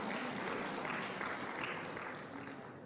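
Applause from an audience at a public talk on a university endowment fund: a steady, dense wash of clapping that holds at an even level for about three seconds and fades slightly at the end.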